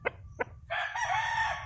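A hybrid game-fowl rooster crows close by on a backyard game farm, two short clucks followed by one sustained, loud cock-a-doodle-doo, with no voices.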